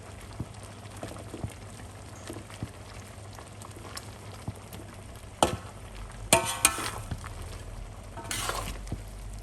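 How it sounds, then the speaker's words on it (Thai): Kaeng tepo, a Thai curry of pork belly, coconut milk, morning glory and kaffir lime leaves, simmers quietly in a pot, with a soft bubbling bed broken by scattered clinks and a few louder bursts of stirring. "เคี่ยวไปแบบนี้เลย 5 ถึง 10 นาทีค่ะ"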